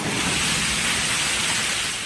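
Floodwaters from a Texas flash flood, strong enough to sweep away a car, rush past in a steady, loud, unbroken roar with no voices.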